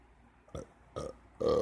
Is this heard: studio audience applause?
no